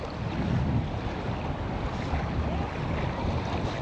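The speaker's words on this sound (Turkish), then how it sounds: "Bayağı bir rüzgar esiyor yalnız." Gusty wind blowing across the microphone, a steady rough roar with faint surf underneath, moderately loud and without voices.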